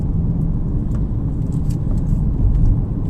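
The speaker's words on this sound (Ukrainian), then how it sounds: "Ми з вами помаленьку їдемо в місто" Steady low rumble of a car travelling along a road heading into town, heard from inside the cabin, with a constant engine and road drone throughout.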